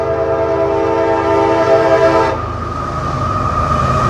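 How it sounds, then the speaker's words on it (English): A freight train passes close by, its horn blaring a loud, sustained chord for about two seconds before cutting off, leaving the steady rumble and rattle of the rolling cars. "in addition to passenger rail service, there are also many freight trains."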